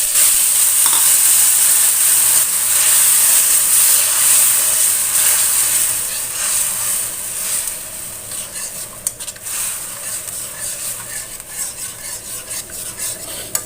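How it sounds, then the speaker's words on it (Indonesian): Blended spice paste for egg balado sizzles in a pan as it cooks down dry, with loud continuous frying, frequent spatula stirring and clinks against the pan, easing slightly toward the end. "Ini tumis bumbunya sampai airnya itu sampai ini ya, sampai kering ya."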